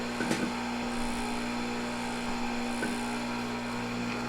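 An Oregon 620-120 chainsaw chain grinder runs with a steady motor hum and whine while its grinding wheel works a chain cutter, brief scraping contacts rising over the drone; no talk.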